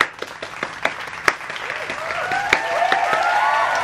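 Short burst of live applause from a small group: scattered hand claps with sharp transients that build into steady, moderately loud clapping and cheering over several seconds.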